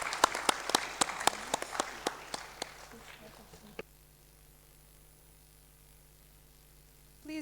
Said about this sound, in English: May I now invite all participants to give a big applause to our 4 distinguished